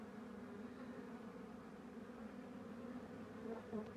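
Honey bees hum steadily inside a hive that has a mated queen newly introduced to a queenless colony. The buzzing is close, even and continuous, with a slight rise near the end.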